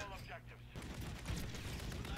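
Shots from a KAR98K bolt-action rifle in a battlefield shooter game, a short burst of loud, sharp gunfire cracks that cut in abruptly after a quieter opening moment.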